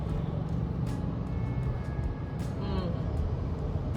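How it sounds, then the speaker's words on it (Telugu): Road traffic on a city street, a steady wash of passing cars and engine rumble with occasional louder vehicles going by, running continuously under a voice. "ఇలా ట్రాఫిక్."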